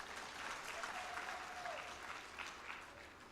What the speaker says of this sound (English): You clap for yourselves.